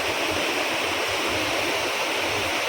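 A river in landslide-hit Wayanad rushes by after heavy rain, one side muddy and one side clear, producing a loud, steady broadband roar of flowing water with no voices.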